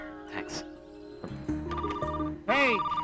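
A telephone rings briefly in a film scene, its electronic trill mixed in with music and surrounding talk, loud and close.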